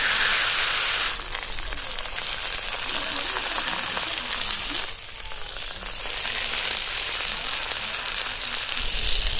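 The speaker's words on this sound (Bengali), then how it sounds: "এইভাবে উল্টে পাল্টে একটু সময় নিয়ে বড়াগুলোকে ভেজে নেব।" Fish boras frying in oil in a kadai, a dense, close sizzle with rain-like crackling throughout that briefly eases midway, with no talking.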